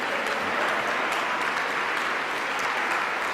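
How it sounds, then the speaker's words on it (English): Sustained applause from a crowd at a lecture event in Chicago, a thick, even roar of clapping held at a steady level from start to finish with no voices standing out. "Continue your round of applause"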